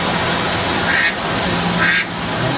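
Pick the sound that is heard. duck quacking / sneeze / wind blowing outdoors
duck quacking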